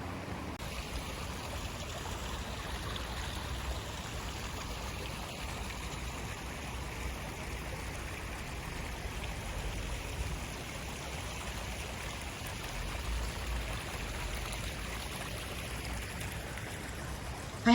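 The river along the Estes Park Riverwalk flows with a steady, even rush of moving water. It runs unbroken and fairly soft with no voices.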